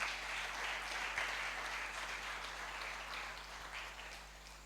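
Church seminar congregation applauding and cheering, a dense sustained crowd of clapping that holds strong and then slowly fades, filling the hall with no speech over it.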